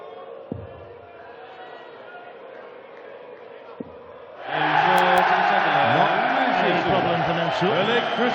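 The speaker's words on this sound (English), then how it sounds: "the crowd find their voice once again" A darts crowd at the 2018 Austrian Darts Open erupts into loud, sustained cheering and chanting that swells suddenly after a quieter stretch of murmuring hall ambience with a commentator talking.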